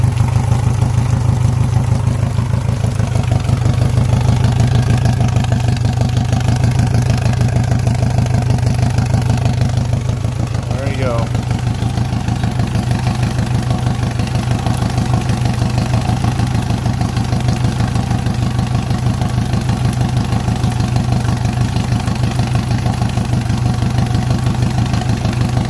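A Yamaha 115hp outboard motor idles steadily on its own after an injector cleaning, a loud, even, low droning hum with a faint rhythmic clatter and no voices.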